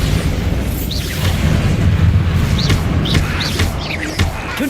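Bombarda blast spells in Hogwarts Legacy combat, rumbling low booms with repeated bright magical whooshes and chirps layered over a continuous loud battle din.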